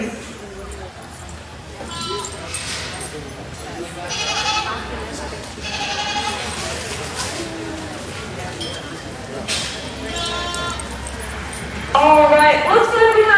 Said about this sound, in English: looks like we have some loose goats in the barn again